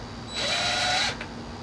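A power drill runs briefly on a Bird electric scooter, a close, high-pitched whir lasting under a second, followed by a small click in a quiet room.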